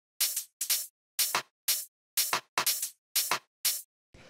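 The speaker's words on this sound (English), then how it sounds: "this is just a bunch of different percussion sounds" Drum rack percussion pattern for a futuristic chill house beat, with crisp closed and open hi-hats and a rim shot, sounding as nine short, bright, evenly spaced hits in a steady rhythm, close and clean with no talking.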